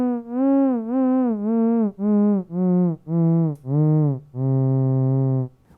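A Moog Etherwave theremin plays a scale in a lecture setting: eight separate smooth, pure electronic notes, each a short sustained tone, stepping in pitch, with a longer final note, loud and close with no voices.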